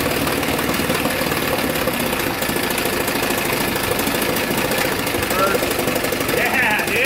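A 1966–67 Chrysler 9.2 outboard boat motor runs with a loud, steady, knocking mechanical drone, close up, while voices talk over it.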